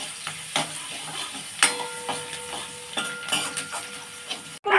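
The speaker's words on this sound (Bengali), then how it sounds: "এই যে আদা কুচি যে চপ করাটা, এটা আমি ঢেলে দিচ্ছি এই তেলের মধ্যে এবারে" Chopped ginger tipped into hot oil, with a steady soft sizzle under repeated spatula scrapes and clinks against the pan, close up, ending in a sudden louder burst.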